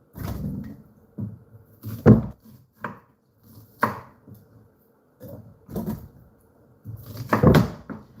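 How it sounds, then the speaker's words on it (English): A knife chops vegetables for Caribbean epis seasoning on a board, giving about a dozen irregular, close, sharp cuts with short pauses between them. "I'm just cutting it so it can blend properly."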